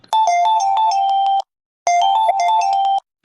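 A mobile phone ringtone plays a loud, bright repeating electronic melody in two bursts separated by a short silence, alone with no talk.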